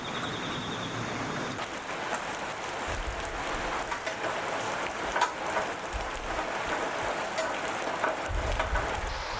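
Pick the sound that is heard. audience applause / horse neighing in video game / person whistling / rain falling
rain falling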